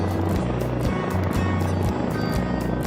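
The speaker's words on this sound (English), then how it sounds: "Some lucky cows even get the honor of taking flight by helicopter" A helicopter flies cattle out to pasture, its rotor and engine making a steady, throbbing low drone that holds evenly throughout with no voices.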